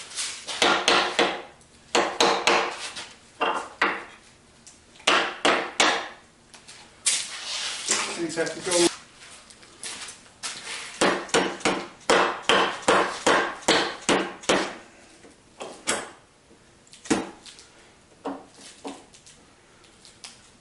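Sharp hammer blows strike wood in quick rhythmic bursts during a Pratt & Whitney lathe restoration, close and loud, with short pauses between runs and a brief spoken remark.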